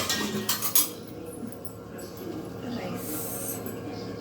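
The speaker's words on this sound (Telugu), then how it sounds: "ఇప్పుడు జస్ట్ ఇది ఒక 10 నిమిషాలే మూత పెట్టేసి ఒక 10 మినిట్స్ ఉడకనివ్వాలి" A metal lid is set on a pot of biryani cooking in a home kitchen, giving a quick run of close clanks and rattles. A quieter stretch follows, with faint kitchen background and some talk.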